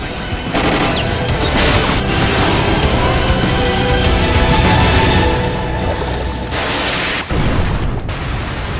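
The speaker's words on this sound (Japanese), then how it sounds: "水蒸気爆発、高圧水蒸気の衝撃が奴を破壊した。" A loud, roaring blast of hissing noise from an anime steam explosion rumbles on for several seconds, with bursts of harsh static-like crackle and a deep boom underneath.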